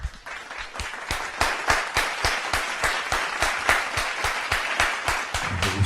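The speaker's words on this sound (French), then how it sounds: "Merci de recevoir notre très cher frère, s'il vous plaît, sous vos applaudissements." An audience claps together in a fast, even, rhythmic beat that continues steadily, loud and close, with no talking over it.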